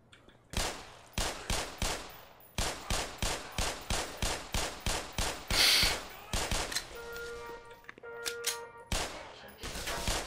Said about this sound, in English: I like shooting up with pistols